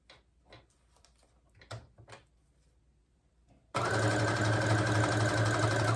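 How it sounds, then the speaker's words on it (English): A Brother Project Runway sewing machine runs a fast, loud, continuous stitch that starts abruptly after a few seconds of quiet handling clicks and rustles. "So on this Project Runway Brother sewing machine, my favorite stitch is number"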